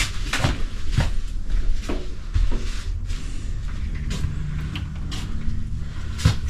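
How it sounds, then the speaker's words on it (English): A sliding door inside a Grand Design RV slides and knocks several times, with a few sharp thumps and rattles over a steady low vehicle hum, close by and moderately loud. "Sliding door."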